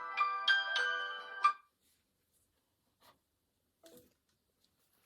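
A phone ringtone from an incoming call plays during a cross-stitch chat at home, several bright, clear electronic tone bursts in quick succession, then the ringing cuts off into near silence with faint handling noises.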